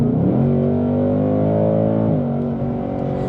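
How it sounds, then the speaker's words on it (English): A Ford Mustang GT Premium Performance with automatic transmission in track mode revs its engine in a loud, rising drone, then drops sharply as a rev-matched shift blips through, heard close inside the car. "this thing, you can hear the rev matching of it"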